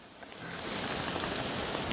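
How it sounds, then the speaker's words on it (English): Heavy rain falling steadily, a dense continuous hiss with faint scattered patters on top, even in loudness from start to finish and without talk. "It's raining a lot."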